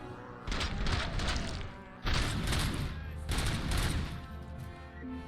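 An automatic rifle fires sustained bursts in Robocop: Rogue City, rapid and loud, in three long volleys separated by brief breaks, with heavy thumping low end.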